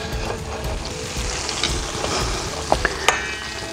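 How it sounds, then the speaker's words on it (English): Steady crackling sizzle of butter and olive oil frying in a hot pan, with a few sharp clinks of utensils near the end. "I can hear my butter sizzling away."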